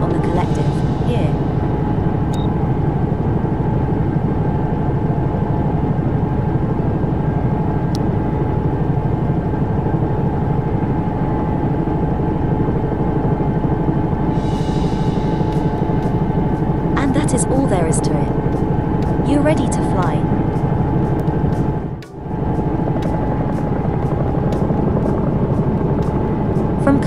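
Bell 222B helicopter in the X-Plane 11 simulator with engines and rotor running at speed, a loud, steady turbine whine over a constant rotor drone, with occasional switch clicks and someone talking throughout.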